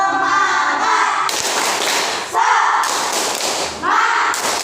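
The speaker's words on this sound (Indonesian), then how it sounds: "Tepuk semangat aja." A class of children claps a rhythmic spirit cheer, loud and close, with brisk clap bursts separated by short gaps and voices chanting along.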